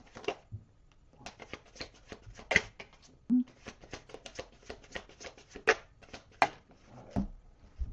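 Tarot cards are shuffled and handled up close, making soft riffling flutters and light slaps in scattered bursts, with a brief voice sound mixed in.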